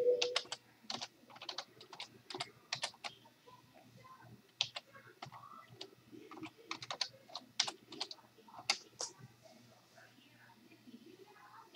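Rapid clicks of fingers typing on a computer keyboard, irregular bursts of keystrokes close by, with soft speech-like murmuring faintly underneath.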